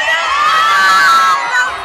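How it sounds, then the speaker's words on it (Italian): A large crowd at the Lucca fan event yells together in one sustained cheer, loud and close, full of high excited voices and whoops that hold steady before easing off at the end. "se facciamo tutti un urlo al mio tre che lo metto nel video vlog"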